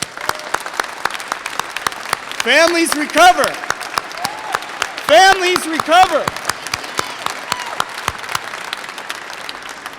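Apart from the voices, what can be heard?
applause for family members at rally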